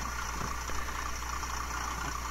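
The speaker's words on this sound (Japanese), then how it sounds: "スロットル戻してもこんな感じでアイドリングでね走ってるっていうような感じですね" On a 1/80 scale model railroad Kiro 80 railcar, a sound unit plays a diesel motor idling, a steady low rumble with a faint rattle that holds even throughout, alone and without talk.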